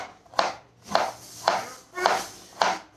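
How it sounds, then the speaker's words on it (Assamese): Squash being chopped with a knife, five evenly spaced, crisp cuts about half a second apart, each with a brief scrape, close and fairly quiet. "স্কচ কাটিছো আজি"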